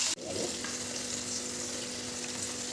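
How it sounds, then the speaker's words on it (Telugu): Two chillies drop into hot oil, opening with a sharp knock before a steady, even frying hiss continues close by. "తర్వాత 2 మిరపకాయలు ఆయిల్లో వేయాలి"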